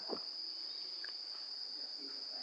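Crickets or cicadas shrill in a steady, high continuous drone at a forest temple, faint and unbroken, with a few soft background noises and no speech.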